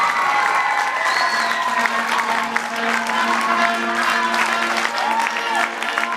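An audience applauds dancers at a stage performance, a sustained round of clapping from a crowd with an amplified voice speaking over it.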